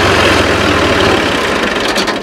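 A 1999 Fiat 480 tractor engine idles close by, a loud, steady low diesel rumble with a fast, even throb throughout.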